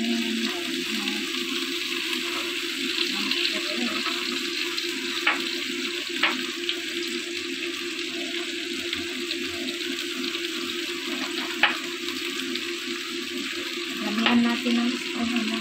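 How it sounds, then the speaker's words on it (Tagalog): Pompano frying in a pan with green onion added, a steady crackling sizzle throughout with occasional sharper pops and a brief clink near the end; faint talk is present. "na-fry ko na ang ating panpano at ilagay ko na yung ating green onion"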